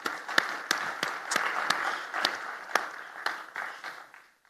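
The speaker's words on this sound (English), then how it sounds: "Big round of applause for you." Conference applause for the panelists at a trade and investment forum in Istanbul: sharp individual claps ring out close by over a softer crowd clapping, tapering to silence at the end.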